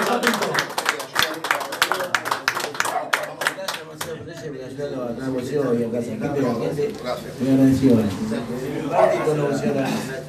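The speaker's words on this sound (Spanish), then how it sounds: "Bueno, un aplauso a Marcelo Ferrazzi" Applause and clapping break out at a backyard barbecue among former boxers, a burst of dense hand claps in the opening seconds before a crowd takes over with loud overlapping talk and chanting.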